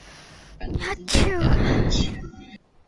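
One loud, close sneeze bursts out, followed by a short spoken reply, with a bit of noise before it.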